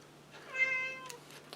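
A pet cat named Cubit gives a single drawn-out meow, clear and fairly close, in an otherwise quiet room with a faint steady hum.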